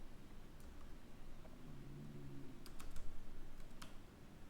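Quiet computer keyboard typing during a command entry, a few scattered light key clicks over a low background hum, with a short burst of taps near the end.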